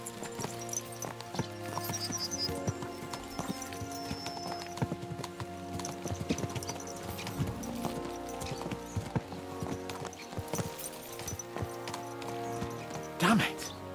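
Horse hooves clip-clop rapidly and continuously amid a busy, layered soundscape in the game Kingdom Come: Deliverance II, with a brief neigh near the end.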